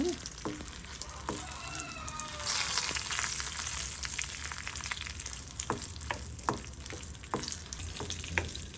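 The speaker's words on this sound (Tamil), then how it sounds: "இதையும் முருகலாக பொரிச்சு எடுத்து புளியையும் பொரிச்சு எடுத்துங்க." Dried Kashmiri chillies and seedless tamarind fry in hot oil for a spicy chutney, giving a steady close sizzle with scattered crackles and pops throughout, with no talking.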